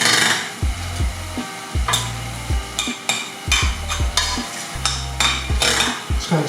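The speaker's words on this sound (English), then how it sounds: "Just kind of stirring it a little bit" A utensil stirs pasta through a chunky tomato seafood sauce in a pan, making repeated scraping strokes with soft low knocks against the pan in an uneven rhythm, fairly close and with no talking.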